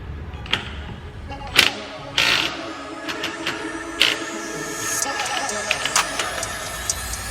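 A power tool removes lug nuts from Nissan 370Z wheels, with several short, sharp bursts and knocks over a continuous mechanical background. The bursts are spaced irregularly across the clip.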